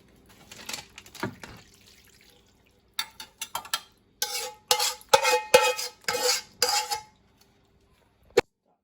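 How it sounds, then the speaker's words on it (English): Macaroni and cheese is poured and scraped into a pan in a kitchen, giving sporadic bursts of wet, sticky slopping and spoon clinks against the dish, fairly quiet and close, with pauses between. "So now I pour the macaroni into my pan."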